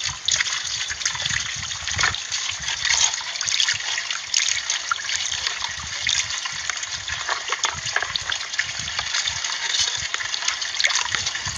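Water trickles and gushes steadily over freshly cast brass being rinsed at a brass foundry in Lopburi, a continuous close splashing flow with no talk.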